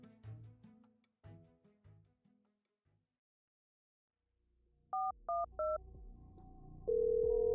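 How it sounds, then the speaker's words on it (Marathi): A short run of three telephone keypad tones, each a quick dual-pitched beep, followed by a steady ringing tone after some softer sounds. "सक्षमने दर्शला फोन लावला."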